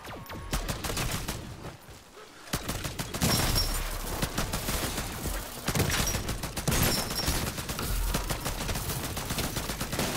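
Rapid bursts of light machine gun fire in Call of Duty zombies, loud dense rattling volleys that pause briefly and then resume, continuing to the end.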